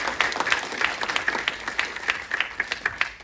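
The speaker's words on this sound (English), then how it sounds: "So one last round of applause," An audience at a community center's annual membership meeting gives the board a round of applause: dense, steady clapping from a room full of people over a few seconds.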